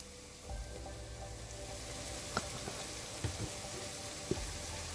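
Ingredients sautéing for an egg chilly curry in a pan on a medium flame, a faint, steady sizzle with a few soft clicks and taps of a utensil, no talking.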